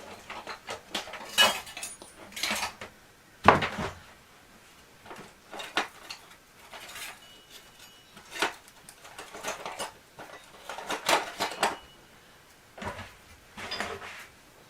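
Metal luthier spatulas clink and rattle as someone rummages through them at a guitar repair bench, in scattered bursts of bright metallic clatter separated by short pauses.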